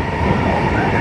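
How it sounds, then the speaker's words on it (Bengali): A high-speed electric bullet train in China rolls past at close range, giving a loud, steady rumble and rush of wheels and air with no pauses. "এই ট্রেনটা চলে যাচ্ছে"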